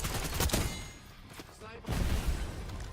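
Gunfire in a multiplayer shooter match, dense, loud and close, with overlapping shots, booms and game effects rising, dipping briefly, then swelling again, and a voice talking underneath.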